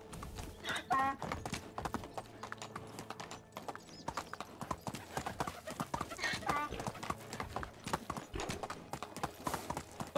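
A donkey's hooves clip-clop steadily in the video game Medieval Dynasty, dense rapid thuds of a ridden walk, close and continuous, with occasional whinny-like calls and game ambience underneath.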